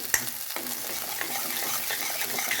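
Masala fries in oil over low heat for an egg curry, with a soft steady sizzle broken by occasional stirring scrapes and clicks.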